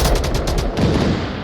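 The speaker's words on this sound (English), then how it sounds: "we got a bit of a gunfight going on right now" Gunfight in the VR shooter Onward during a competitive match, with rapid, loud bursts of close gunfire repeating in quick succession and a dense, continuous crackle of shots throughout.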